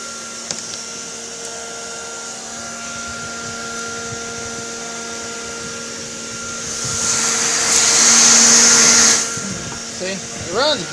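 An Electrolux Automatic Model G vacuum cleaner runs with a steady, close motor hum and whine, swelling louder and hissier for a couple of seconds before settling back; a voice talks over it.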